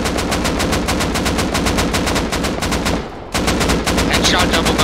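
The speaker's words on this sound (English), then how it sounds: "they're shooting into our base" Rapid bursts of automatic gunfire in the video game Rust, loud and continuous with a steady repeating rhythm, dropping out for a brief moment before the shooting resumes just as hard.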